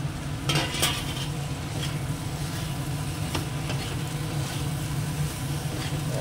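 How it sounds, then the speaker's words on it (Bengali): Shrimp and okra sizzle steadily in a pan while being stirred, a continuous close frying hiss with occasional scraping taps and no talking. "এই যে চিংড়ি মাছটা খুব ভালো করে কষানো হয়ে গেছে, এবার এর মধ্যে ভেন্ডিটাও দিয়ে দিই"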